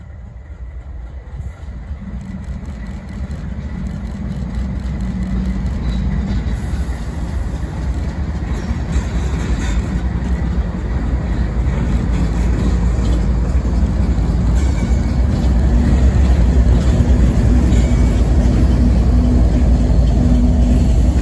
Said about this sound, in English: This is CPG45 manifest from Bensonville, Illinois to BRC Clearing in Chicago, Illinois. And here it goes passing the B12 searchlights in Franklin Park